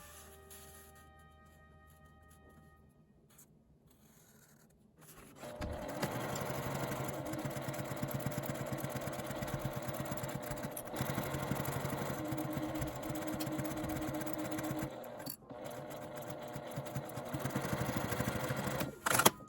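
A sewing machine stitches a curved seam along a fabric card case, starting after a quiet pause and then running with a steady, fast mechanical whir and rapid needle ticking for a long stretch.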